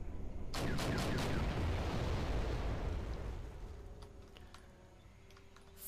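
Heavy artillery and tank cannon fire in the war strategy game Wargame European Escalation, a sharp cluster of booming shots followed by a long rumbling decay that slowly fades out, loud and close.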